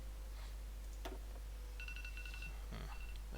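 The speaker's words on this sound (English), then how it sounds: "My phone is beeping." A phone giving short electronic beeps, a few clipped pitched tones in quick groups over a constant low hum, with faint clicks scattered around them.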